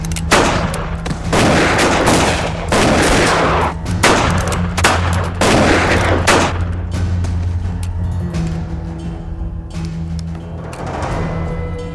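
Rapid bursts of gunfire crack in loud volleys, a dense exchange of shots with a low rumble underneath, fading to a quieter hum near the end.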